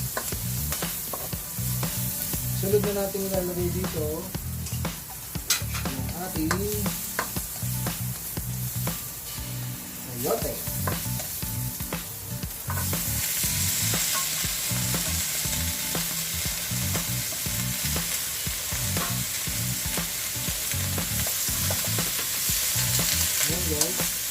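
Garlic and onion sauté in a hot pan for a chayote and pancit canton dish, with a steady, loud sizzle and occasional stirring scrapes, the frying growing brighter and more intense in the second half.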